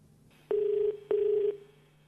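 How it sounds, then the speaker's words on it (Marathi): Telephone line tones on a game-show stage as a call is placed: two steady ringback buzzes, each about half a second long, separated by a short gap, clear and alone over faint background hum. "राजे भरत जाधव यांना फोन लावण्यात यावा"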